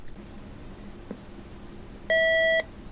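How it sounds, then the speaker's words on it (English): A General Electric 7-4664A stereo clock radio sounds its alarm: one short, loud, high-pitched electronic beep tone lasting about half a second over a quiet room hum. "we'll go ahead and we'll listen to the alarm"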